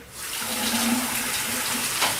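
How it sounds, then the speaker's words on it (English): Cold tap water runs in a steady, close stream while someone rinses their face at a sink after shaving, with no talk. "I'm going to rinse with cold water."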